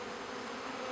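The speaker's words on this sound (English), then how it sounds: "Now there's quite a lot of bees clinging to the screen" Honey bees in a package cage give off a close, steady buzzing drone that runs unbroken through the short moment, with no voices.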